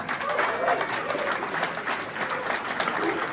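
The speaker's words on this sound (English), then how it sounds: "Round of applause for Bec Perse." A pub audience at a political discussion night claps steadily, a dense patter of many hands nearby with a few crowd voices mixed in, sustained throughout.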